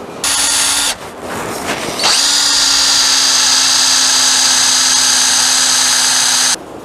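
A power drill boring holes in wood for a bow back Windsor chair whines loudly at close range, running in short bursts before one long steady spin that stops abruptly.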